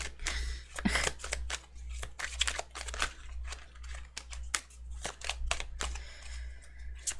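Tarot cards are shuffled by hand in a rapid, uneven run of crisp riffling and snapping card sounds, close and moderately loud over a steady low hum, with no talking.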